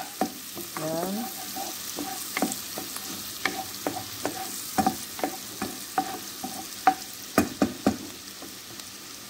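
Onion sautéing in a pan for macaroni with corn, a steady frying sizzle broken by repeated sharp clicks and scrapes of stirring, with a brief word spoken once.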